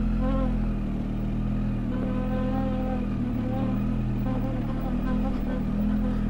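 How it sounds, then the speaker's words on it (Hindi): A motorcycle's rear brake squeals in wavering tones while descending a rocky mountain road between Turtuk and Tyakshi in Ladakh. The squeal rides over a loud, steady engine rumble. "पूरी चूचू कर रही है मेरी बाइक"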